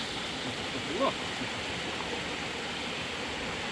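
Cold mountain stream flowing near Rokytnice nad Jizerou, a steady broadband rush of water filling the whole clip, with a faint brief voice in the background.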